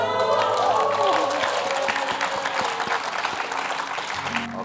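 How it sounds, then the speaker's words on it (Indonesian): Studio audience applause on an Indonesian talk show, loud and dense clapping with crowd noise, running steadily throughout and fading slightly toward the end, with music and voices mixed underneath. "kita berikan tepuk tangan untuk ketiga keras kita yang luar biasa"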